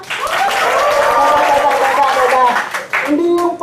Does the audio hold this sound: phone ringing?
no